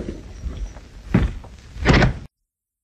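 A door is shut in an old Hindi film scene, with a few heavy wooden thuds and knocks, the last one loudest, ending abruptly in silence.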